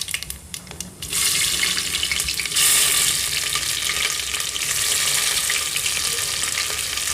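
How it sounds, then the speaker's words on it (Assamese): Onions are dropped into hot oil already holding cumin seeds and black peppercorns in a pan while a chicken egg biryani is cooked. After a quiet second the oil bursts into a loud, steady sizzle that continues throughout. "অনিয়নখিনি মই ফ্ৰাই কৰি ল'ম।"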